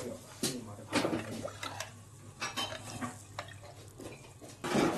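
Plates and dishes clink and clatter in a series of short, sharp knocks while people chat at a rural family birthday gathering, the handling sounds close and intermittent under the conversation.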